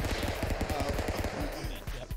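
Rapid gunfire bursts from the stick-figure brawler game Stick Fight, loud dense repeated shots in a fast rattling rhythm, with voices faintly underneath.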